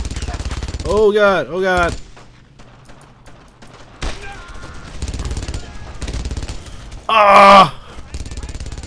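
Machine gun fire in the Brothers in Arms video game, rough bursts of gunfire mixed with loud groaning and shouted voices, one strong burst near the end.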